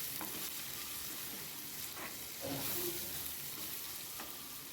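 Oil heats in a pan while cooking fish podimas, giving a steady, quiet sizzle and crackle throughout with a few brief stirring sounds, no voices.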